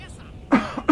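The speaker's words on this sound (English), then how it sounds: "I'm going to cough again." One person coughs twice in quick succession, close and fairly loud, with a brief pause between the two bursts.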